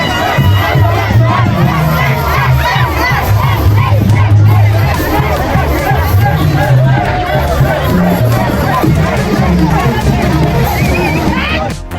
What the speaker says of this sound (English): people were cheering me on and appreciating what I was doing